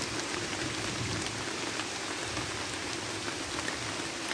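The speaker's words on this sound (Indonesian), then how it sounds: "Tiba-tiba hujan turun" Steady rain falls in a Borneo rainforest, a dense, even hiss of drops on foliage continuing unbroken at moderate volume with no voices.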